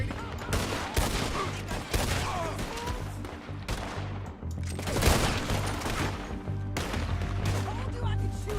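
Gunfire in Red Dead Redemption 2: a loud, dense exchange of shots with several heavy blasts and constant crackle over about eight seconds, with brief lulls between the bursts.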